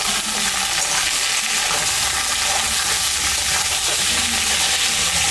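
Ridge gourd and pointed gourd drop into frying onions for a Bengali chorchori, setting off a loud, steady sizzle with a constant hissing crackle and no pauses.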